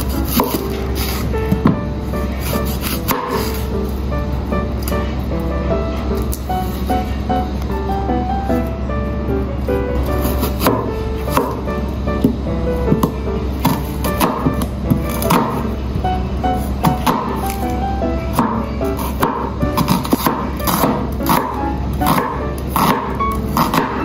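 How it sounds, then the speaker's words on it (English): A knife chops a peeled onion on a board with quick, steady, close chopping strikes that continue throughout over soft background music. "Peel and chopped onion."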